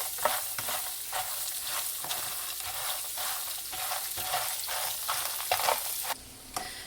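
Pasta tibs stirred with onions in a hot pan: a continuous sizzle broken by regular scraping strokes of the spoon, loud and close, dropping away abruptly near the end.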